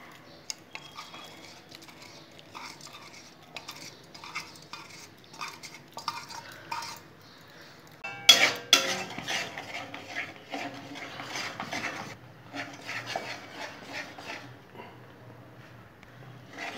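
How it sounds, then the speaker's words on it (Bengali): Mango pulp being stirred in a metal pot for aam er payesh, with scattered scraping and clinking of a spoon against the pot, growing louder and busier halfway through before easing off. "আমের পালটা আমি এইভাবে নেড়ে নিলাম বন্ধুরা"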